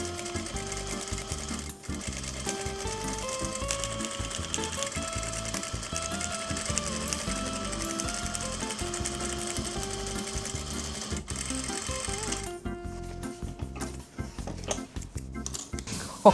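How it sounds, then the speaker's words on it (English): A sewing machine stitches two pieces of cardboard corset material together, running in a steady, loud, rapid mechanical chatter for most of the stretch before it slows and stutters toward the end. "all we're doing here is sewing 1/2 inch these 2 pieces together"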